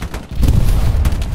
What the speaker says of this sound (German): DCS-Sprengladung habe ich an die Brücke gelegt. Das macht gleich Boom.